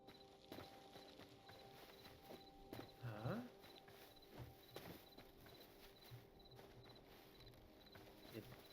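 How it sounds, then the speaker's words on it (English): Horse hooves in the video game Hytale, a series of soft, scattered clip-clop thuds at moderate distance, accompanied by a brief animal vocal and a faint background music tone. "the horse is running away"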